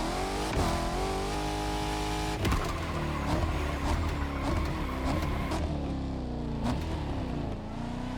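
A car engine in The Crew Motorfest racing game, swapped-in plan B engine in stock form, revs loudly and continuously, rising and falling in pitch through several throttle blips, close and steady with no voices.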